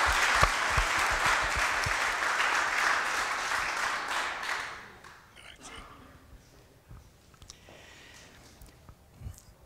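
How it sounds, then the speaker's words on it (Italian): Audience applause at an awards ceremony, a burst of clapping for about five seconds that then thins into scattered claps and faint room noise. "Facciamo un applauso a distanza."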